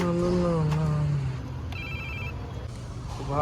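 A mobile phone rings with incoming calls from friends, its electronic tone repeating clearly after a voice fades out.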